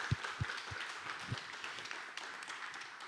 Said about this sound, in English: Let's have a round of applause for Anna.